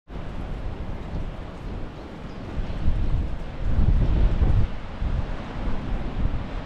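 Steady wind buffeting a GoPro microphone on the English coast below a cliff, a low rumbling roar that swells louder midway, with no voices.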